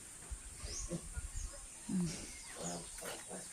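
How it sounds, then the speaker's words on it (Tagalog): Seven large pigs in a pigsty give off low grunts and snorts, close by and fairly faint, in a few uneven bursts over a quiet background. "ito 7 na baboy siya"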